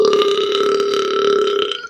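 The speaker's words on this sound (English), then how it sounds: "he will just let out this enormous burp" One loud, drawn-out burp holds steady for nearly two seconds, close up and alone, and trails off at the end.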